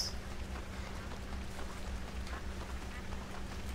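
A duck quacks in the Red Dead Redemption video game, with faint calls over a steady low in-game ambient hum and rumble.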